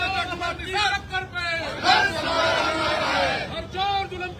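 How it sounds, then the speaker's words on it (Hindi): Supporters surrounding politician Sanjay Nishad chant protest slogans as a loud, rhythmic crowd chorus, with voices rising and falling over steady babble at an outdoor gathering. "चारों ओर से समर्थक घेर के वहीं पर मौजूद हैं और जम के नारे लगा रहे हैं"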